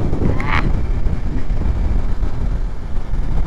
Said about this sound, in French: Bon, par contre il faut aimer le vent hein.